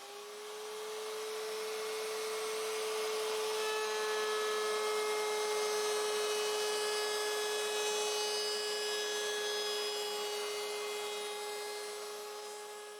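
A router rounds over the inner edge of a wooden furniture piece, a steady high-pitched whine throughout, a constant motor drone with a bright tonal hum and no talking.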